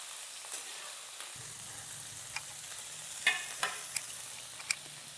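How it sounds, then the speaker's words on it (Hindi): Cauliflower frying in mustard oil in a kadai over a medium flame gives a steady soft sizzle, with a few light clicks and scrapes of stirring scattered through it. "गोभी ला मीडियम फ्लेम में बढ़िया ले भून लेबो"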